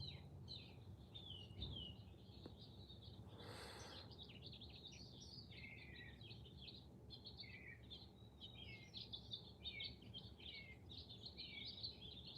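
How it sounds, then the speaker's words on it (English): Birds call outdoors in the morning, a blue jay among small sparrows, with a steady stream of faint chirps and tweets over low background rumble and no talking. "I got birds today, man."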